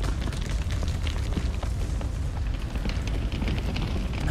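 In the game Grow Home, a rocket ignition blast roars as a loud, steady, broadband rush with crackling bursts throughout, filling the whole stretch with no voices.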